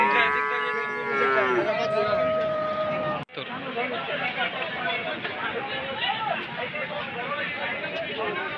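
At the Hazratpur cattle market a cow lets out a long low moo close by, followed by a steady hubbub of crowd chatter and people talking.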